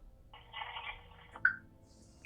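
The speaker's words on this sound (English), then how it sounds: "Call her, put her on speaker" Phone ringing through a speakerphone during a call, a single muffled electronic ring tone lasting about a second, quiet and slightly tinny, followed by a short click.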